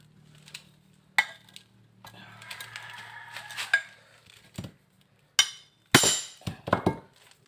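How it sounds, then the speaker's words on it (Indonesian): Metal clicks and clinks of a wrench loosening the four bolts on the power steering pump cover of a Hyundai Trajet, scattered knocks and scrapes at close range with short pauses, no talking. "Selanjutnya terlebih dahulu kita buka 4 baut pengikat penutup pompa power steering ini."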